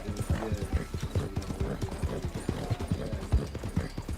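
Galloping horse hooves in a video game, rapid rhythmic thuds repeating steadily throughout, clear and close over a constant background wash.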